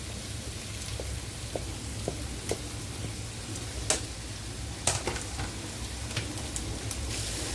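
Egyptian shawarma meat marinated in vinegar and yogurt is stir-fried with sliced onion and peppers, giving a continuous close sizzle with scattered scraping stirs and a few sharper clicks of the utensil against the pan.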